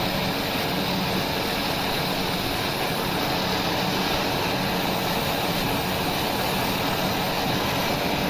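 A TBM single-engine turboprop in a flight simulator runs on dusty dirt ground, its engine a loud, constant roar and whine that stays unbroken from start to finish.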